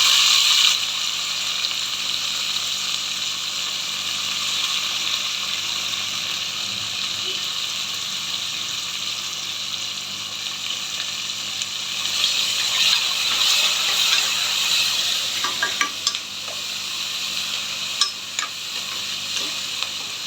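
Onions frying in a pan for menthya bath, a long, bright, continuous sizzle with clicking stirring and spatula scrapes growing busier in the second half, close and alone.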